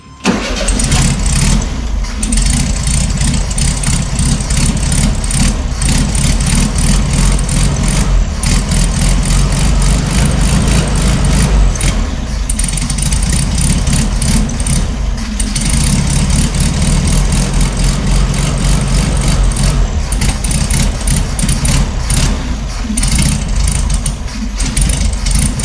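A 1972 Volkswagen Super Beetle's engine, running for the first time in 20 years, catches and then runs loud and steady with a rough mid-pitched idle, very close, continuing with brief dips throughout.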